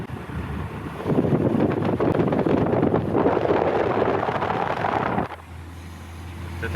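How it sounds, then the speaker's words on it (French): Wind buffeting the microphone in a loud, rough rush for several seconds, then easing to a lower steady noise. "Peut-être un peu de vent"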